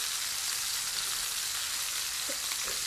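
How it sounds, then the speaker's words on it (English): Beef searing in a hot pan for a BBQ shepherd's pie, a steady close hiss and crackle of sizzling fat with no voices. "we're going to let that sear really well on both sides"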